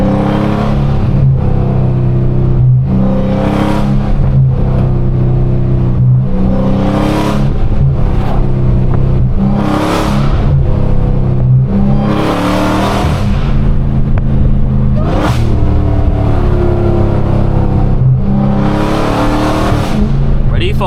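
A Dodge Hellcat engine roars close and loud while driving, with repeated surging revs and throttle blips rising and falling over about twenty seconds, talk faintly underneath.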